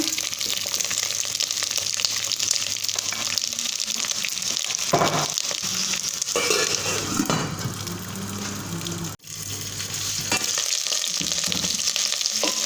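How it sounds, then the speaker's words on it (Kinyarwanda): Eggplant and carrots fry in hot sunflower oil with a loud, continuous sizzle and crackle, broken briefly by stirring and a short dip in the middle. "Noneho amavuta yahiye, izi ni za ntoryi na karoti nsutsemo."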